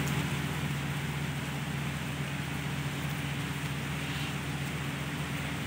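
Steady rain falls in Karachi during the first monsoon downpour, a continuous dense hiss that stays even and fairly close throughout, with no voices.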